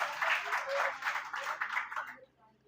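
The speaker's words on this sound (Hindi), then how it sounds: "एक बार जोरदार ताली से सर का स्वागत करें" An audience at a one-day national seminar claps to welcome a speaker, a loud burst of dense applause that swells and then quickly dies away.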